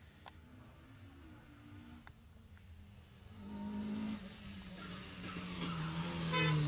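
A Mazda MX-5 rally car drives through a stage of the Jersey Rally, heard fairly faint at first, then its engine rising louder as it accelerates past, with brief sharp knocks early on.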